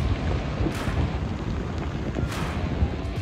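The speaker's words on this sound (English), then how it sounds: "Rocks rolling down from the clifftop." Rocks tumbling down a seaside cliff in a rockfall near a beach, a continuous rumbling roar with two sharper crashing bursts, loud and heavy throughout.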